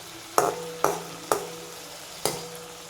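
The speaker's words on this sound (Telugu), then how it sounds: "ఇప్పుడు ఎండ్రాయిల్ని కలుపుకొని ఒక వన్ మినిట్ పాటు ఫ్రై చేసుకోండి" Prawns fry in a pan, with four sharp clatters of stirring spaced across a few seconds over a low sizzle.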